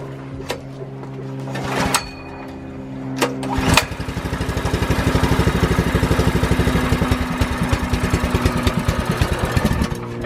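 A Predator 212cc engine swapped onto a bike is pulled over a few times, then catches and settles into a loud, steady, close chugging idle that keeps running to the end.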